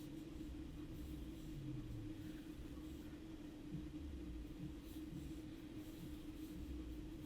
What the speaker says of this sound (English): is a car going past the house very slowly